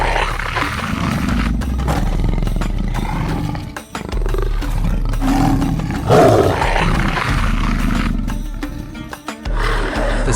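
A large pride of lions brawls in the wild, loud overlapping roars, growls and snarls filling the whole stretch in chaotic bursts, close and intense, with no voices.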